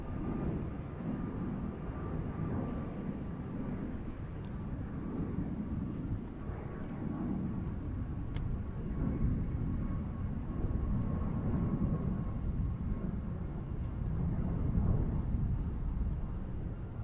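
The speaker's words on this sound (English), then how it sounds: "Southwest Airlines landing there, it looks like." Southwest Airlines airliner landing at Chicago O'Hare International Airport, a steady low jet roar rumbling at a distance throughout with a faint high tone riding on top, fairly even in loudness.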